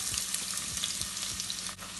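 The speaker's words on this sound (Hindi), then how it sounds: "हल्की दरमियानी आँच में हम इस तरह से इसको इसकी भुनाई शुरू करेंगे कि प्याज जले ना" Chopped onion frying in hot oil over medium-low heat, a dense close crackle and sizzle with soft rhythmic stirring strokes underneath, steady throughout.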